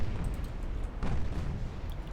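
Naval guns fire during a warship battle in a strategy game, a dense booming rumble with a heavier blast swelling midway, all loud and continuous over a brief stretch.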